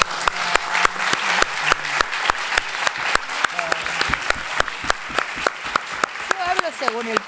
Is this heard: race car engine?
no